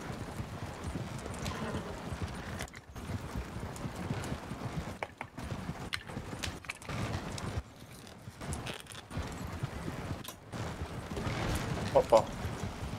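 Horse hooves clip-clop at a steady gait in Red Dead Redemption 2 online co-op, a quiet rhythmic trot running under men chatting throughout.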